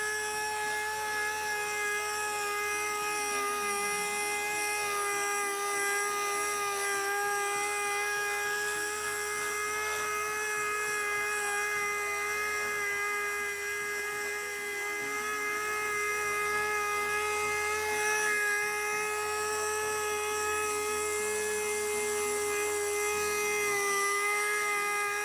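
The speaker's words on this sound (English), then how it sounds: "it's so much better to have the speed of a high speed sander" A high speed sander working on a guitar body during refinishing, a steady whining drone with bright tonal harmonics that holds continuously, close and loud, with slight shifts in pitch as pressure changes.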